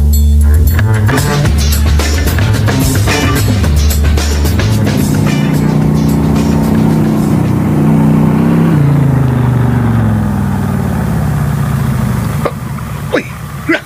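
A motorcycle engine runs loud and close in a radio drama scene. It revs and drones steadily, with a falling pitch sweep in the middle, then cuts off near the end.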